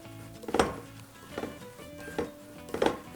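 Torn mushrooms being tossed by hand with salt and a splash of water in a bowl, giving soft, damp rustling with a few rhythmic thuds and light knocks against the bowl, close and fairly quiet.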